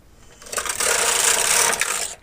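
A knitting machine carriage sliding across the needle bed to knit one row, a smooth rising rush and clatter lasting about a second and a half, steady and close, with no talking.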